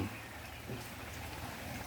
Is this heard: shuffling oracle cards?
no